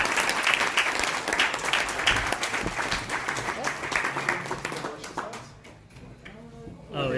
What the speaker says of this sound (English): Can I get a round of applause for our